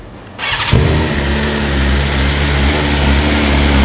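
A superbike engine fitted with an Akrapovic short full exhaust system fires up after a brief quiet moment and settles into a loud, steady, throaty idle with a deep rumble, heard up close with no talking.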